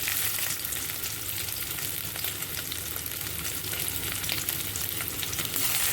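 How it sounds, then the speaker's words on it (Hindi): Potatoes for an aloo beans curry fry in leftover oil in a pan, giving a soft, steady hiss throughout. "तो अब ये डाल देंगे मैं आलू, और इन आलूओं को भी थोड़ा गोल्डन ब्राउन सा होने तक"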